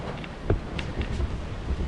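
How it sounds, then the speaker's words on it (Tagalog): Strong gusty seaside wind in the rain buffets the microphone in a low, rumbling roar, with faint splashing and rustling underneath and no one talking. "lakas ang hangin, tabing dagat, inuulan"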